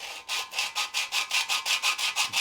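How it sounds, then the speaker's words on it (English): Rapid, even back-and-forth rasping strokes of a sanding belt working a Royal Enfield bobber motorcycle's metal mudguard, about five per second, close and steady. "put this sanding belt on the mudguard and just"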